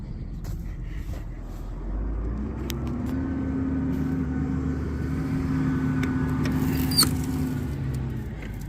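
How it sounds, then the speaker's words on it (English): A truck hauling hay rolls along a gravel road, giving a steady low engine rumble with a faint tonal drone and light crunching patter, plus a brief sharp click near the end. "I might throw in some gravel driving here and there just to break up the day"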